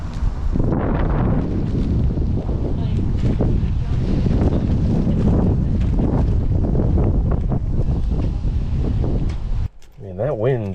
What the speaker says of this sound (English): Man, that wind is something else